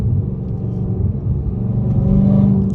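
Supercharged Dodge Charger Hellcat engine heard from inside the car, a close, loud, low rumble that swells slightly toward the end, with a faint steady whine rising over it.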